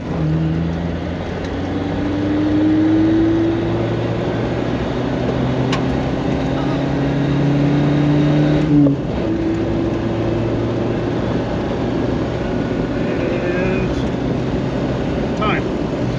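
A stock-carbureted 1987 Suzuki Samurai with a 1.3 engine pulls hard from a standstill to 40, its engine note climbing through gears in a steady, droning run with a brief shift dip midway, heard from inside the cabin.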